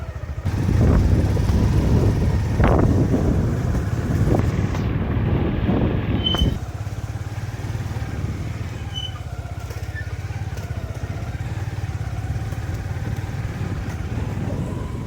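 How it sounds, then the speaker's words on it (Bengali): A motorcycle riding along the India-Bangladesh border near Haluaghat, its engine a steady low drone mixed with buffeting wind noise. It is louder over the first six seconds, then settles into an even hum. "আমরা ভারতের ভিতর দিয়া মোটরসাইকেল চালিয়ে যাচ্ছি"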